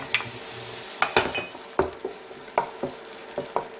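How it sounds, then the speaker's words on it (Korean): Shrimp stir-fried in a lightly oiled pan, with a spatula striking the pan in quick repeated scraping clinks over a faint sizzle, close and rhythmic. "준비된 식용유 중에서 약간만 팬에다가 둘러준 다음에 새우를 볶아줄 거예요"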